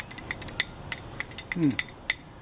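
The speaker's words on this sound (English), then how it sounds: "you can use the spoons like the bones" Stainless steel spoons struck together like bones give a string of sharp, bright metallic clicks in an uneven rhythm, close and fairly quiet, with a brief low voiced murmur partway through.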